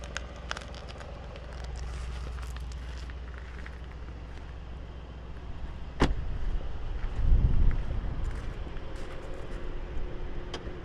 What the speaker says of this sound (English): Has quite a nice idling exhaust.